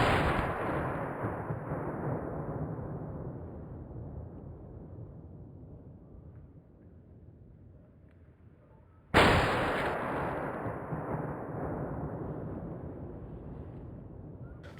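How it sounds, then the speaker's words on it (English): Two loud rifle shots fired at a buffalo bull on a hunt in Selous, Tanzania, each a sharp blast followed by a long fading outdoor echo, spaced about nine seconds apart. "The first shot is where I wanted it to go."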